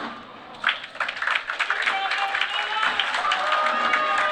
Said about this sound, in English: Well, round of applause, high fives all around for Ogallala.